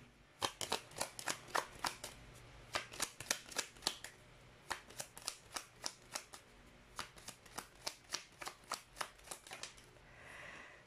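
Tarot cards being shuffled and handled, producing a fast run of crisp riffling slaps and snaps in steady bursts, close and clear, with a brief pause midway and no voices.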